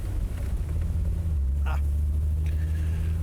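An Alfa Romeo RZ engine drones steadily while driving, a loud, low, continuous hum with a slight rise in pitch partway through, heard from inside the car.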